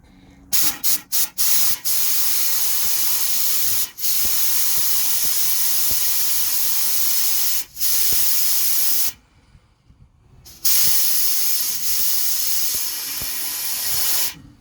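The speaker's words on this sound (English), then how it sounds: "I got a little compressed air. See if anything else comes out." Compressed air blasts through the transmission cooler line of a 2007 Chevy Express 3500 van. A few quick hissing bursts lead into long, loud, steady sprays, broken by a short pause.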